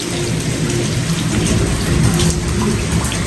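Heavy stormy rain pours down in a steady, dense roar, loud and close, with no break or voices across the whole stretch.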